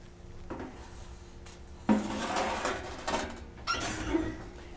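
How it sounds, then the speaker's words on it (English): A pan holding salt-crust chicken is set into an oven, heard as a few soft clunks, scrapes and a rattle of metal in quick succession, fairly close with no talking. "Now very gently, we're going to go ahead and put this into the oven."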